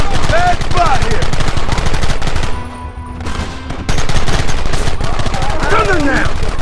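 Rapid gunfire from a shootout in the video game Red Dead Redemption, dense volleys of loud shots crackling steadily with a brief lull midway before the barrage resumes, with scattered voices in the mix.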